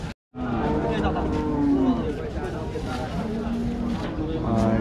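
Cattle moo in low, drawn-out calls at a busy Rajshahi cattle market selling calves and bulls, several lowing cries rising over constant crowd chatter and bargaining voices.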